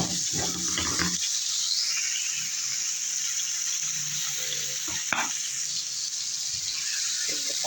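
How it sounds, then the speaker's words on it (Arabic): Okra and peppers fry in ghee with a steady close sizzle. A utensil stirs and scrapes the pan now and then, and the frying runs unbroken throughout. "شوحيها كده معانا في السمنه قبل ما نضيف ايه، قبل ما نضيف القوطه بتاعتنا"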